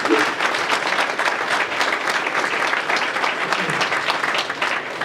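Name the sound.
audience applause for medical staff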